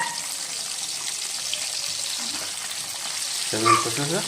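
Pabda fish frying in a pan gives a steady, even sizzle throughout, with a voice speaking briefly near the end.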